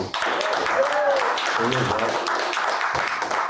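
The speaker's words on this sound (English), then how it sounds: "clap it up for Rack-Lo." Audience applause at a book event at a bookstore, steady clapping throughout with cheering voices and a speaker talking over it.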